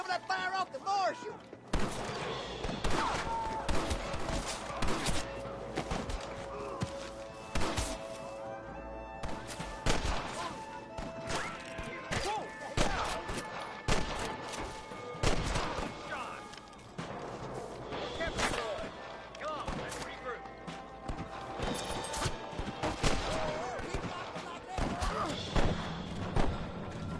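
Repeated gunfire in the Western video game Red Dead Redemption, sharp shots and heavy thuds scattered irregularly throughout amid a battle, with voices shouting and talking over the shooting.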